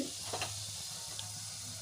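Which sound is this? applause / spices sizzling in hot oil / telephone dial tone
spices sizzling in hot oil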